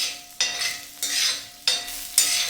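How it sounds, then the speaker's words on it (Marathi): Coconut, cumin, chilli and garlic dry-roasting in a pan for zunka-khardा, heard as four loud scraping stirs with a steady sizzle between them, close and without talk. "हे सगळं आपण खरपूस भाजून घेणार आहोत"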